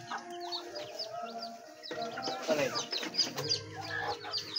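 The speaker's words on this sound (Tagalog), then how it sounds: "Marami na po yung manok ni Boss Stephen." Several chickens cluck and murmur close by, overlapping irregularly with occasional louder squawks.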